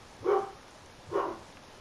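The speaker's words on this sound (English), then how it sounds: "It's my dog barking." A dog barks twice indoors, two short separate woofs about a second apart, moderately near, with no talk over them.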